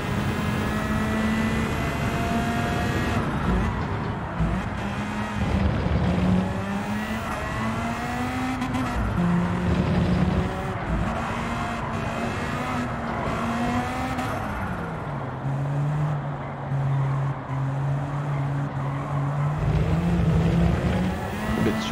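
A race car in a racing video game at Autopolis, its engine droning loudly and continuously as it accelerates, shifts gears with rising and falling pitch, and brakes into corners, with no talking.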